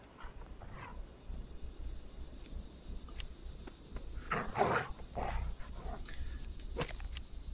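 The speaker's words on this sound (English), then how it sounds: "The dogs are all over him." Dogs snarl, bark and whimper in combat in the fantasy role-playing game Pathfinder: Kingmaker, several short bursts clustered over background game noise, moderately loud.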